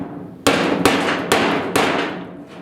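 Hammer blows pounding down sheet metal on a 1969 Ford Bronco body during interior rust repair; four loud, sharp, ringing strikes about half a second apart, close up, with no talk.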